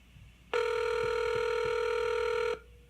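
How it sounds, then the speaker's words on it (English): A steady electronic telephone tone rings out alone for about two seconds, loud and even, then stops abruptly. "Ringing phones is a good sign."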